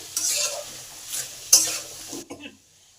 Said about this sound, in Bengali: নুন আর হলুদটাকে ভালো করে আলু আর ছলার মধ্যে মিশিয়ে দিলাম